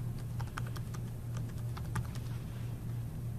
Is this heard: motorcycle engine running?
no